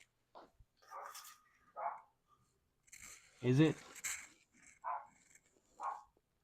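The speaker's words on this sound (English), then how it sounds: "Are they just barking for no reason?" Dogs bark in short, separate bursts around a doorbell-like arrival, with a few louder, closer barks mixed in and a person talking at intervals in between.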